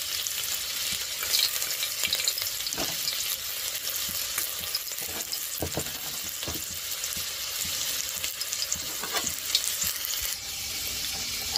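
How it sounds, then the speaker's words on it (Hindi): A small amount of ginger sizzles and crackles steadily in hot oil in a pan, an even, close frying hiss with occasional spatters and stirring clicks and no talking. "तेल गर्म हो गया है, अदरक, थोड़ा सा अदरक डाला है"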